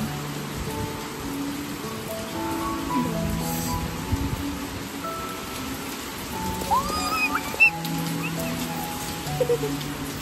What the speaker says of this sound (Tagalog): Malamig ang ulan guys.